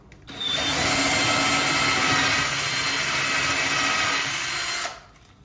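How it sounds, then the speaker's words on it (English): A power drill drilling a hole whines steadily at high speed for about four seconds, loud and close, then winds down and stops. "I'm gonna go directly in and just drill"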